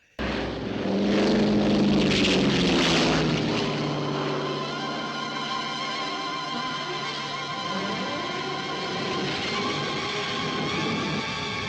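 A propeller airplane in a 1940s war film, its engine drone loud and steady throughout, harmonic tones rising and shifting as it revs and moves, with no voices over it.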